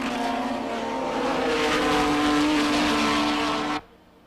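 Race cars, including a Lotus Elan and a Mazda RX-7, roar past at an SCCA national championship race, a loud sustained engine wail with tire noise that cuts off abruptly near the end.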